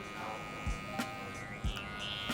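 An electric beard trimmer gives a steady, close buzzing hum with a couple of brief bumps in its tone as it works through the beard, without talk.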